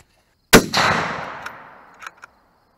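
A rifle fired at a target outdoors: one sharp, loud shot followed by a long fading echo that rolls away, then a few faint clicks and knocks.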